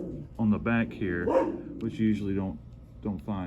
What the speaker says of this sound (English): Excuse my dog there.